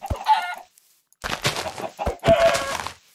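Chicken clucks in the Minecraft video game, a few short bursts with a pause between them, close and fairly loud with no talking.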